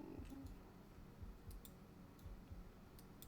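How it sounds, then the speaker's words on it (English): Faint keyboard typing somewhere in the background: light, scattered clicks and ticks in small irregular clusters over a quiet hiss. "I heard some typing in the background here"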